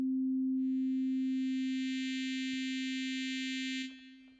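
A steady pure sine tone from the Vital synthesizer held throughout, gradually gaining a bright buzzy layer of overtones as its wavetable morphs toward a custom wave, then cutting off near the end.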